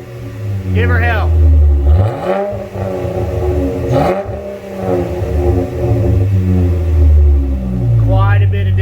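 A 2016 Jeep Wrangler Rubicon with a Flowmaster Outlaw 409S black stainless dual exhaust revs several times, loud and close, each blip swelling to a deep roar and then dropping back to a rumbling idle. Voices talk over it.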